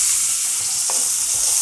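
Loud, continuous sizzling of two chopped large onions frying in hot oil, a bright hiss throughout with a brief stirring scrape partway through.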